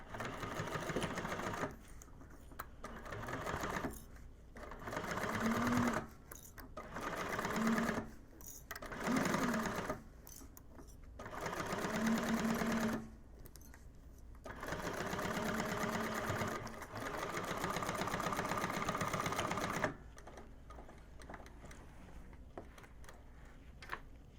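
Close, brisk stitching from a sewing machine top-stitching a bag seam, in repeated runs of several seconds with short pauses between them. The runs end in one longer steady stretch with no talk.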